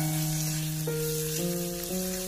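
Egg fried rice with peas stir-fried in a wok, a steady close sizzle with soft scraping of the spatula, alongside a sustained tonal hum that steps in pitch a few times.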